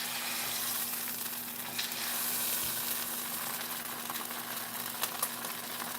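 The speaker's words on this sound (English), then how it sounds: "But it'll sizzle." Beans frying in a pan give a steady, moderate sizzle with soft crackle and a low background hum, continuous and fairly close, with no talking.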